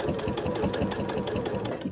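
A sewing machine stitching a straight line, a close, rapid, even mechanical chatter of the needle running continuously without pause or voices.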